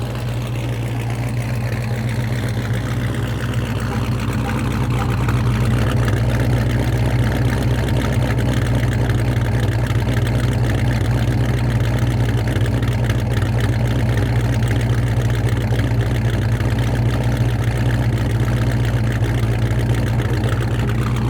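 The deep engine of a Dodge Charger Scat Pack 392 with an AWE exhaust drones steadily nearby, rising in a low revving surge after a few seconds and then holding a loud, rumbling idle.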